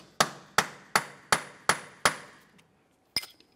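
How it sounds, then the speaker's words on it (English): Hammer driving a punch against the center of a Honda Civic front axle to free it from the wheel bearing: six sharp metallic strikes at an even beat, each ringing briefly, then a pause and one final lighter blow. "continue on with a hammer and punch. We'll come right in the center of the axle to break it free from the wheel bearing."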